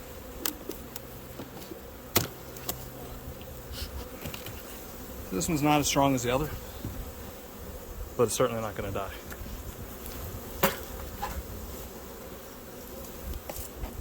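Honey bees buzz in a loose, uneven drone around an opened hive during a late February inspection, with near passes swelling loudly, while someone talks calmly over them.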